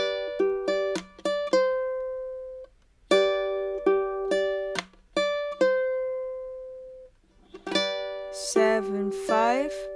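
Fingerstyle ukulele plays a passage with quick clusters of plucked notes, some palm-muted and short, others left ringing, and closes on fuller strummed chords near the end.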